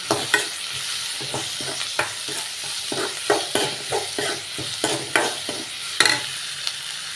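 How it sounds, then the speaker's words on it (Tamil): Onions sautéing in a pan with mustard seeds and curry leaves, with steady frying sizzle and repeated close scrapes and clinks of a spoon stirring, no voices. "சேர்த்துட்டு நல்லா வதக்கிக்கிற வெங்காயம்"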